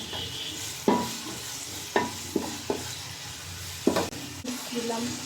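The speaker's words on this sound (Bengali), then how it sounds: "এখন এগুলো আমি একটু সুন্দর করে ফ্রাই করে নেব" Chopped carrot, capsicum and green beans stir-frying in a pan, giving a steady low sizzle broken by a handful of sharp scraping stirs of the spatula, close and moderately loud.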